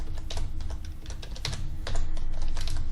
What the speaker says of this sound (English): So I'm going to type in osboxes.org as the password.